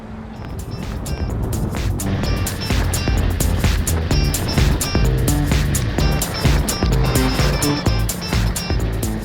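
A 2017 Suzuki GSX-R1000R sport motorcycle riding on a cold highway, its engine a loud, steady drone with heavy wind rush throughout, close and continuous without talk.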